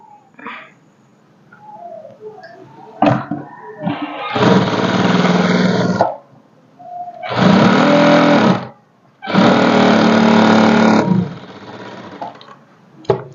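A sewing machine stitching a blouse lining for a high-neck blouse runs in three long, steady bursts separated by short pauses. It is close and loud with no talking, and faint handling sounds come before the first run.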